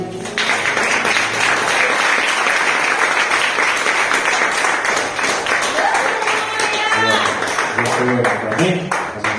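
A church congregation applauds during a sermon, a thick wash of clapping and cheering that runs throughout while voices carry over it near the end.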